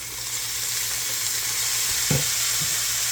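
Beef and cabbage frying in a skillet as soy sauce is added, a steady loud sizzle throughout with a brief brighter hiss near the end as the liquid hits the hot pan; no talking.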